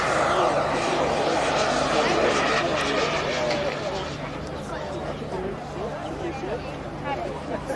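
A model aircraft engine drones steadily on final approach at a model aircraft air show at Blackbushe, staying loud and constant throughout and fading slightly in the second half as voices talk over it.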